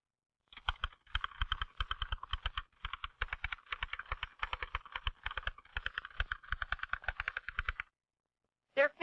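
A typist works a typewriter in fast, steady bursts of sharp key clacks, briefly pausing between runs, close and clear, with no voices, and the clatter stops near the end.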